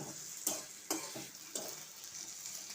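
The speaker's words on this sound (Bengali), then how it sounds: "রসুন দিয়ে দিলাম দিয়ে এটা আমি ভালো করে একটু লাল লাল করে ভেজে নেব" Crushed garlic sizzles in hot oil, a bright steady hiss broken by three sharp stirring scrapes spaced about half a second apart.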